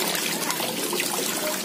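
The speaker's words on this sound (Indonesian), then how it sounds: "aliran airnya ya. Ini langsung dari pegunungan." Clear mountain stream water rushes and trickles steadily and close by, a continuous broad splashing flow with no other sounds.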